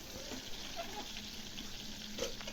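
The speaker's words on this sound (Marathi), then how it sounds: "आता आपण जी वांगी भरलेली आहेत ती एक एक करून ह्या तेलामध्ये सोडायची" Stuffed brinjals frying in hot oil in a pan, a faint steady sizzle and bubbling crackle heard close up and continuous, with a soft clink near the end and no talking.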